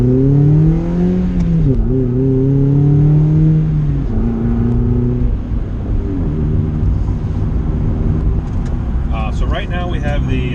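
A 1999 Mazda Miata street car with a modified exhaust drones and revs loudly while driving, the engine pitch climbing, dipping and rising again through gear changes, steady and close throughout with no talk.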